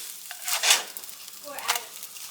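Ham that has just been flipped sizzles softly in a frying pan, with two brief swells of crackle close by against a quiet background.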